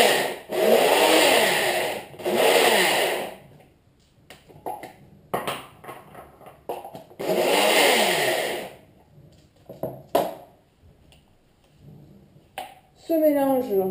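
Kitchen blender pulsing onion and garlic into a lemon chicken marinade, several loud whirring bursts of a few seconds each separated by pauses, close by.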